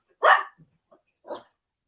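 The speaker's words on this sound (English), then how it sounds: "He's barking at Michael." Dog barking at someone walking around a caravan: one sharp, close bark followed by a few soft huffs and a second quieter bark.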